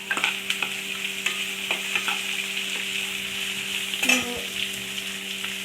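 Curry leaves frying and sizzling in a pan of home-made mutton gravy, a steady close hiss with scattered crackles and brief spoon-stirring clatter, no voices.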